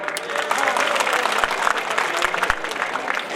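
An audience of students at a college cultural festival applauds, a dense, continuous burst of clapping close by with scattered sharper claps throughout.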